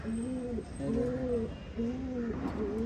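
Pigeons coo softly in repeated low, throaty phrases, a few seconds apart, against faint background noise.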